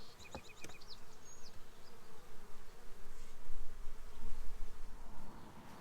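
Honey bees swarm and buzz around an opened hive during an inspection, a dense, steady drone close up that swells slightly louder toward the end, with a few sharp clicks near the start.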